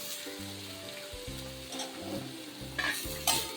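Cut jackfruit vegetable tossed into browned onions in a pan, with scraping stirs and soft sizzling, punctuated by a few sharper clinks of the spatula against the pan near the end.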